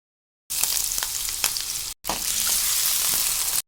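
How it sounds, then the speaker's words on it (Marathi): Potato slices frying in hot oil over medium heat, a dense, loud, close sizzle with quick crackles, starting after a short silence and briefly cut off mid-way before resuming. "आता बटाट्याचे काप फ्राय करून घेऊयात।"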